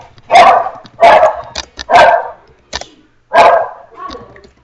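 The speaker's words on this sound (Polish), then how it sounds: "No jest też szczekać" A dog barks loudly and close by, four or five sharp barks in an uneven rhythm with short pauses, ending in a softer whine-like bark.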